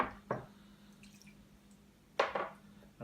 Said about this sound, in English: I'm just going to give it a splash of some tea that has been washed.